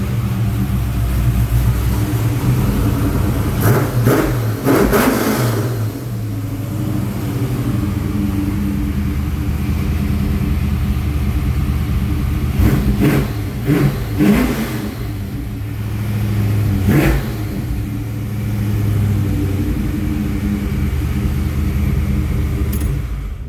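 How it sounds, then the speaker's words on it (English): A car engine rumbles steadily, punctuated by several short revs that rise and fall, close and loud, with no talking. "We're gonna give it just a little gas and let y'all hear."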